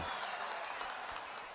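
A brief, faint wash of crowd applause at a political public meeting in Bani, Jammu and Kashmir, steady and distant for under two seconds.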